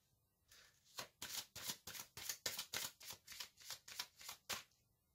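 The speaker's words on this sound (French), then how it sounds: "Je vais tirer d'autres cartes" A deck of tarot cards is shuffled in a quick, even run of about a dozen crisp riffling bursts, close and clear against a quiet room.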